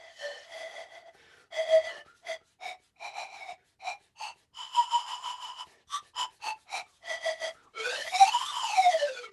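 Soft, breathy panpipe notes play in short separate puffs, then a quick run of airy tones, quiet and close, with no voices.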